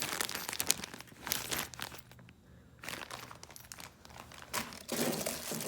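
A plastic bag holding wiring parts for an electric hub motor conversion is handled up close, crinkling and rustling in irregular bursts with a brief quiet pause midway; no one speaks.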